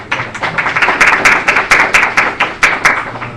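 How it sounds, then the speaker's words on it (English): A small group claps in a round of applause at a senate meeting, brisk close handclaps in a quick irregular rhythm lasting a few seconds, loud and without talk. "So let's give him a round of applause."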